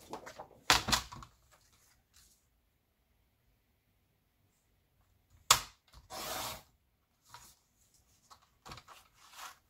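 Scissors snip through a piece of paper being cut for a scrapbook album, giving a few short, crisp, close cuts separated by long quiet gaps.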